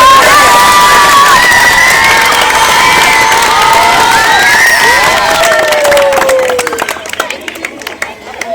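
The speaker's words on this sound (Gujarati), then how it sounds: "જોરદાર તાળીઓ છે." Primary school children in a crowd cheer and shout loudly for a winning team, with clapping under the excited voices, fading toward the end.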